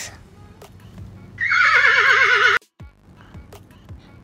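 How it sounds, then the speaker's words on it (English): A horse neighs loudly once, a shrill wavering whinny that trails off, with a few soft hoof taps before and after. "Horse."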